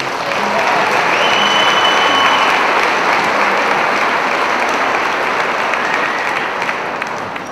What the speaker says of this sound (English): And one more time, cheer for all of our performers.